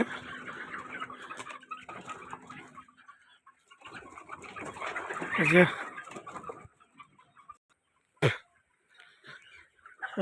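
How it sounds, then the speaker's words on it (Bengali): Chickens cluck and coo in a busy 2,000-bird poultry shed in Rajbari, their calls scattered throughout, with a person talking over them and a brief sharp knock near the end. "এখানে দুই হাজার মুরগির শেড তো এই মুরগি শেডে"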